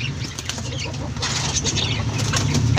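A Kadaknath chicken jumps up and flaps its wings on a rooftop, a brief flurry of close wingbeats over a steady background hum.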